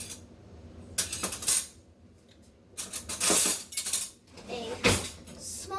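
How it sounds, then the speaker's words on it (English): Metal cutlery clatters and clinks in a kitchen as a small spoon is grabbed from a cluster of silverware, with several bursts of rattling separated by short pauses. "So what I'm going to do is I'm going to get a spoon."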